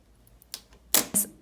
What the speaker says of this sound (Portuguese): A gente pode cortar aqui também esse fio